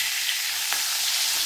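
Hilsa fish frying in oil, a continuous dense hiss and crackle of sizzling at steady loudness, close up with no voices.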